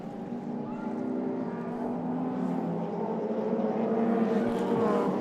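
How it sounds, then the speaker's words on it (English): A McLaren M1A V8 racing car engine roars steadily at a historic motor racing festival, deep and throaty, loud and close, with a low rumbling growl that swells slightly toward the end. "McLaren M1A, very unique sounding car."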